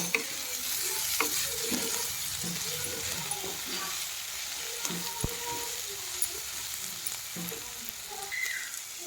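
Food fries in oil with turmeric and is stirred in a pan, a continuous close sizzle broken by irregular scraping and clinking of the spoon, with faint speech now and then.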